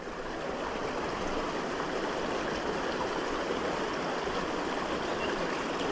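Several streams of water pour into a trout pool on a river, a steady, loud, broadband rushing flow with no breaks and no voices.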